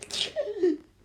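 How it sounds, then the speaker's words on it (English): A single quick sneeze from a person covered in dirt and dust, close and fairly loud, with a sharp breathy burst and trailing off, no other sound around it. "I sneeze 3 times,"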